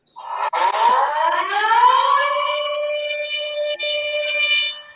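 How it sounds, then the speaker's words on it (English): A loud air-raid-style alarm siren plays as a sound effect, its pitch sweeping upward and then holding a steady wailing tone for several seconds, with brief dropouts partway through. "Loud alarm thing"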